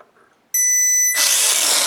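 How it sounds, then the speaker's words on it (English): A Fly Zone DR1 RC model's geared propeller motor snaps on with a high electric whine, then swells into a loud, close, broadband roar of prop wash at full throttle. "move the throttle all the way up and watch what the prop does"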